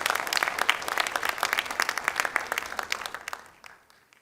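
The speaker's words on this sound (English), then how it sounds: "Let's give Shagnika another round of applause for that wonderful Abhinaya." Audience applause after a classical Indian dance solo at a Ranga Pravesh debut, dense and fairly close, holding steady for about three seconds before thinning and fading out.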